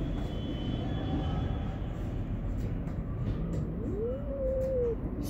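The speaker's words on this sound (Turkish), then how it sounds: "Arkadaşlar kedi yavrulamış buraya." A mother cat guarding newborn kittens gives a long, rising, drawn-out wail near the end, over a loud steady background rumble.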